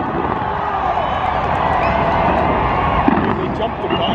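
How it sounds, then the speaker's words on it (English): New Year's fireworks show heard from a curbside crowd, a continuous dense wash of crackling bursts and distant booms with babbling voices and cheering mixed throughout. "I think it was an amazing fireworks show."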